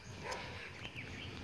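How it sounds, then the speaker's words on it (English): Small dogs at a neighbouring house bark and yip faintly in the distance, a few scattered barks over quiet outdoor background noise. "You've got these annoying dogs at the neighbor's house."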